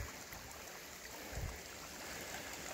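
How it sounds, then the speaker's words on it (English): A small babbling brook about nine or ten feet across on rural Sierra property, flowing in a steady soft wash, faint and continuous throughout with no voices. "Nice little brook,"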